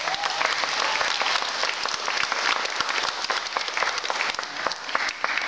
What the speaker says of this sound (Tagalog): Pumalakpak ang lahat ng natanggap.